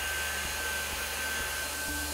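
High-speed air turbine spindle on a Haas machine milling a part at tens of thousands of RPM, a constant airy whine with a thin steady high tone and faint periodic ticks, fairly quiet.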